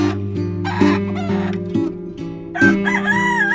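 A rooster crows in a farmyard beside a hen coop, with several loud, ragged calls rising over steady background music and no talking.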